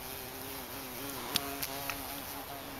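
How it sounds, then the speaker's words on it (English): A bee buzzing inside a pipe: a steady droning hum with wavering pitch, close and continuous, with a couple of faint clicks and no talking. "I hear a bee. Sounds like he's in that pipe."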